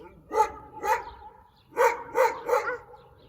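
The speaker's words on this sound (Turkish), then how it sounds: "Köpek bağırıyor" A dog in a park barks in short bursts, two sharp barks then a quick run of three, close and fairly loud with quiet gaps between.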